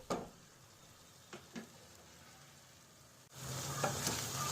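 Onion-tomato masala frying in a pan for paneer curry: a soft, steady sizzle with a few spoon taps, growing louder and brighter near the end.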